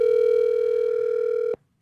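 A telephone line tone during the dialing of a call, one steady loud tone held for about a second and a half before it cuts off sharply into silence.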